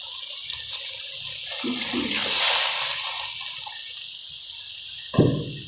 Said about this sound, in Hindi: अब मैं इसमें जो पानी था इसका वो शामिल कर दूँगी।